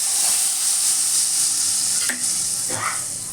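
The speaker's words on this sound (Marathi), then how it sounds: "ना हिंगाची वरून फोडणी देऊ" Asafoetida dropped into hot oil for a tempering sizzles loudly and steadily in a pan, a bright continuous hiss with a couple of brief stirring clinks near the end.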